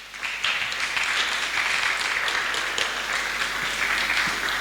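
A church congregation applauds steadily with dense, even clapping from many hands throughout, moderately loud and with no talk over it.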